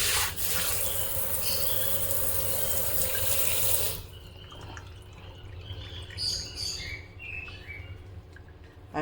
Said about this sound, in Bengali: এরকমভাবে জলটা ভীষণ জোরেই পড়ছে